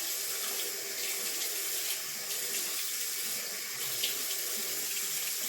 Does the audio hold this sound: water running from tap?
yes